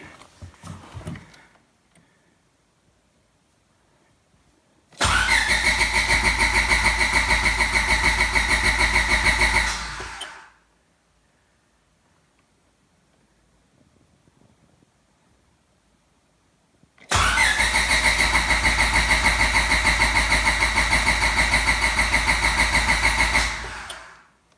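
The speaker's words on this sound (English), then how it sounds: "I just want to crank over the motor and build up some oil pressure before I decide to start it" A car motor cranks over with the starter, without firing, to build oil pressure before a dyno day: two long, loud, steady bursts of roughly five seconds each, separated by quiet.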